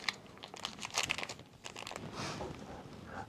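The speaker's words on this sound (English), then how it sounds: "So just remove the desiccant from the plastic bag," Close, crisp crinkling of a thin plastic desiccant bag from a Bambu Lab X1 Carbon 3D printer's AMS unit in short irregular bursts, then a softer rustle as it's handled.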